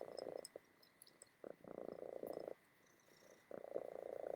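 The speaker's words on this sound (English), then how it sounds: "She's purring right above the microphone." A cat purring directly above a microphone gives a quiet, close, rumbling purr in rhythmic pulses, with a short pause midway and no voices.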